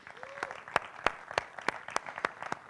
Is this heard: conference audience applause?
yes